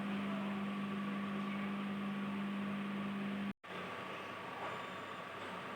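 Microwave oven heating paneer gravy at full micro power, a steady hum with a low mains drone that cuts off abruptly partway through, followed by a brief silence and then continued fan-like noise.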